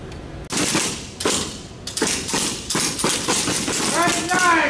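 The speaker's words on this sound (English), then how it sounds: "Fire when ready." Rifle fire at an army basic combat training shooting range, a series of loud, sharp shots at irregular intervals that echo across the range, with more fire nearby and faint voices underneath.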